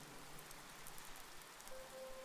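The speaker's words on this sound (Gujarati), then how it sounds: "હવે ઝરમર વરસાદ શરૂ થઈ ચૂક્યો છે" Light drizzle patters faintly and evenly, a soft continuous hiss of fine raindrops with a few brief tapping flecks and a thin steady tone near the end, quiet and without any voices.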